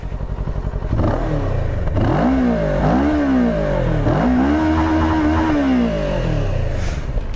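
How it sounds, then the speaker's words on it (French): Exhaust of a 2023 Kawasaki Versys 650 twin-cylinder motorcycle, recorded close and loud: a steady idle rises into three or four rising and falling revs, the last one held longer before settling back to a throbbing idle, with no talk. "je vous fais écouter la sonorité de la ligne d'échappement"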